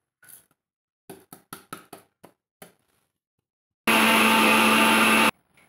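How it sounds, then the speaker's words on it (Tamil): Mixer grinder with rice in its jar for kozhukattai puttu: a run of sharp knocks and taps at first, then a loud, steady motor whir lasting over a second before it abruptly stops. "இப்போ நான் அரிசியை அரைச்சிக்க போகிறேங்க."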